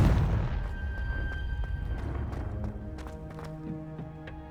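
Confringo fire spell in Hogwarts Legacy bursting as a loud, booming explosion, followed by a long rumbling decay with scattered crackles and ringing game tones.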